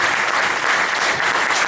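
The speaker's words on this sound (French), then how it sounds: "Je demanderai d'abord de vous mettre debout pour un salle d'applaudissements à ces messieurs" Applause from a conference audience, dense and continuous clapping at full loudness for the whole stretch, with no talking over it.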